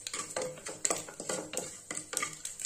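Quick, repeated scraping and clinking of a utensil stirring cashews roasting in a pan, a steady rhythm of light metallic strokes with no talking.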